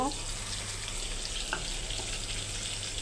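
Chopped onions fry in hot oil in a pan, making a constant close sizzle with a soft crackle, over a low background hum while cooking continues.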